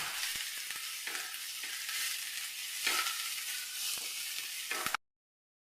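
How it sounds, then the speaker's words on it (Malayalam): Onions and curry leaves sautéing in a hot pan, a steady bright sizzle with stirring scrapes and crackles, close and continuous before cutting out abruptly near the end. "ഒരു മീഡിയം സൈസ് രണ്ട് സവോള അതുപോലെ ഒന്ന് വഴറ്റിയെടുക്കാം"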